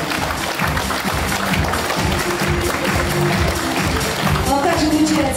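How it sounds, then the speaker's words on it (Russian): A hall audience applauds at an awards ceremony for utility and housing workers. The clapping is dense and sustained for several seconds, with voices and low tones running underneath. "Звучат аплодисменты зала."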